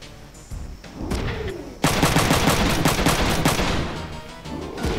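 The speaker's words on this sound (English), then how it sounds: "Because they're using machine guns" Bursts of machine gun fire from mech combat in the strategy game Front Mission 3, rapid rattling volleys that start sparse and then run as a loud, dense barrage with no talking.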